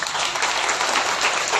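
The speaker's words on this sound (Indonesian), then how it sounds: "Boleh tepuk tangan buat Pak Ahok." Dense, steady applause from a crowd at a café gathering in Jakarta, continuous and fairly loud throughout the short moment.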